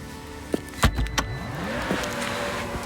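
Power tailgate of a Volvo V90 D5 AWD Inscription opening automatically after a foot swipe under the bumper: a click and clunk of the latch, then a smooth whirring motor drive with a rising and falling tone.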